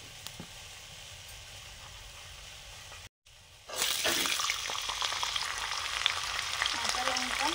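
Black cumin seeds frying in mustard oil, with a steady low sizzle that cuts out briefly and then bursts into a louder, denser crackle as the seeds hit the hot oil, continuing close and even with no talk.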